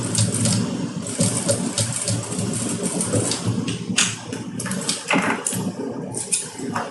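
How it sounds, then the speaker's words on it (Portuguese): A domestic sewing machine stitches along the edge of two pieces of patchwork fabric for a zippered pouch, running in a steady close whirring chatter with slight pauses and handling noises. "Vou vir na minha máquina agora e vou passar uma costurinha aqui, na pontinha, segurando esses dois tecidos."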